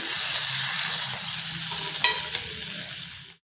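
Snake gourd and soaked, cooked chana dal stirred with green chilli paste in a hot pan, a steady close sizzle with scraping spoon strokes near the end, no voices.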